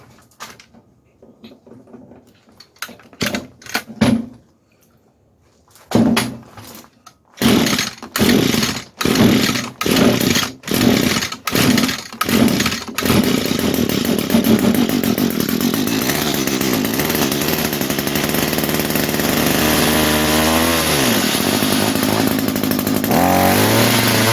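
A 22-year-old Echo two-stroke string trimmer with a carburetor starving for fuel: several loud pull-start bursts and sputters, then the engine catches and runs steadily with a raspy drone, revving briefly near the end.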